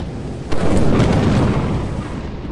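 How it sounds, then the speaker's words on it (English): A loud thunderclap bursts out during a thunderstorm in the video game Lethal Company, then rolls into a broad, sustained rumble that slowly fades. "Oh, it's stormy."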